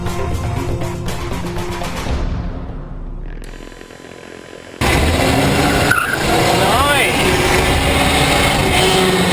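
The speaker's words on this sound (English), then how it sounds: "So E-Rex is an all-electric race car, and we built this originally for the Automotive X Prize." The E-Rex, an all-electric race car built for the Automotive X Prize, drives past with tire squeal and skidding, then a loud, dense rush of driving noise.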